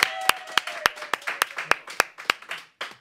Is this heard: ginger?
no